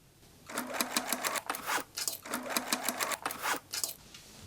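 Sewing machine top stitching a securing line on a denim tote bag made from old jeans, with the lining tucked into the denim shell; close, rapid stitching in several short bursts with brief pauses between.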